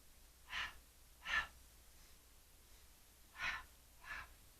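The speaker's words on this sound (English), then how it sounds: "we're going to single leg stretch with a percussive breath" Four sharp percussive breaths, spaced roughly evenly in two pairs, puff out audibly during a single leg stretch on a Pilates mat, with a quiet room between them and no talking.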